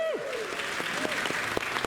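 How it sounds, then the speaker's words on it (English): Audience applause for Lurleen, a guest seated up front at a DragonCon 2023 celebrity talk session, a short steady round of clapping with scattered sharper claps and a faint voice over it. "Round of applause for Lurleen"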